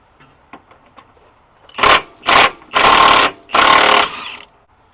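Impact wrench on a 2007-2010 Audi Q7 subframe bolt: four loud, close bursts of high whirring, each about half a second to a second long, separated by brief pauses, with faint clicks beforehand.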